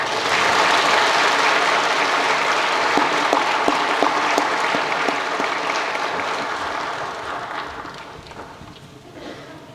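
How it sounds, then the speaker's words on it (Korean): A large congregation at a Korean pastoral ordination ceremony applauds warmly, a thick sustained wash of clapping that stays strong, then gradually thins and fades toward the end. "박수로 맞이해 주십시오."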